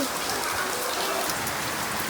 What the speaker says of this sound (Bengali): এই যে বৃষ্টি হচ্ছে